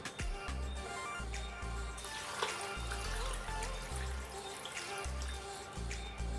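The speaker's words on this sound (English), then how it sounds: "Just going to add some water to this. I'm going to be adding about 6 cups of water." Water is poured from a tap or jug into a pot holding pineapple skin and lemons for an immune-boosting tea, a continuous running and splashing flow that stays fairly steady throughout.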